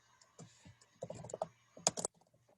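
Typing on a computer keyboard, a quick irregular run of close clicking keystrokes in short bursts, alone in a quiet room.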